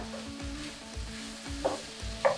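Carrots, onions and celery sauté in a hot pan with a steady low sizzle, while the food is stirred or scraped several times and two brief sharper clinks stand out near the end.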